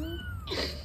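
A cat gives a short, fairly quiet meow that rises and then falls, heard close up indoors with no talking.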